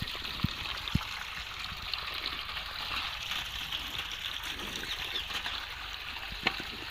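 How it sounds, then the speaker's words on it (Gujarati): Water runs steadily from a turned-on tap as a soft, even hiss with a few faint clicks, fairly quiet, with no voices. "ચાલુ કરી દે પાણી"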